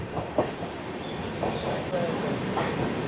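Vivek Express pulling out of platform 3 at Bhadrak station, a steady low rumble and rolling noise with soft clatter and a few brief knocks, faint background voices now and then.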